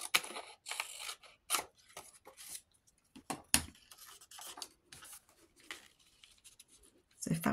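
Scissors snip through paper to trim a blue pocket piece from a French Country craft project, with several short, crisp cuts spread out over a quiet room.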